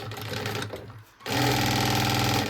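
A sewing machine runs a seam on a backpack, a short burst of rapid stitching that pauses briefly and then resumes louder and steady, with no talking.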